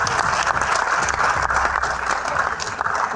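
Audience at a Rajasthani cultural event at Delhi University applauding, a dense continuous wash of clapping at moderate volume throughout, with little talk.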